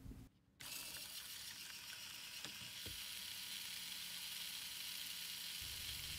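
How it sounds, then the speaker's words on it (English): A genuine LEGO Power Functions M motor spins up after a brief quiet start, then runs as a steady faint whir with light mechanical ticking, constant to the end. "First up, the genuine LEGO M motor."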